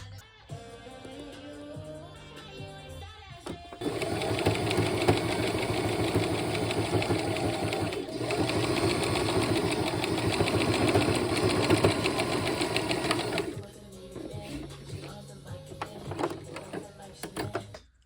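A sewing machine top stitches a halter top made from a scarf, running in a steady loud mechanical whir for several seconds, pausing, then resuming in shorter bursts, with no talking during the stitching.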